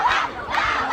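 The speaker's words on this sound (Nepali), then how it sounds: "दर्शकको हुटिङ दर्शकको आवाज" Spectators at a Nepali volleyball match cheer and hoot in a loud, continuous crowd roar, with shouted voices swelling twice across the short burst.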